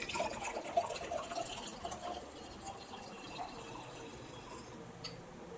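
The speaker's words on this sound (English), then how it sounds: "I'm just going to pour my solution here" Nutrient solution for a DIY hydroponic mix, made from raw salts, is poured into a clean glass container, giving a quiet, steady liquid trickle with faint splashes that stays soft throughout, with no talking.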